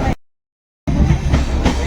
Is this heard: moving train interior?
yes